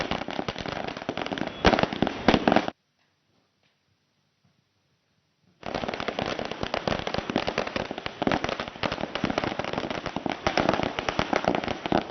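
Rapid strings of firecrackers bursting loudly and densely at a political party celebration in Pune, broken by a silent gap of about three seconds before the crackling resumes.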